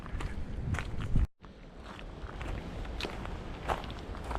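Steady footsteps crunching along an old train track trail at Disney's Fort Wilderness Campground, a continuous shuffle of steps at walking pace with a brief silent gap near the start.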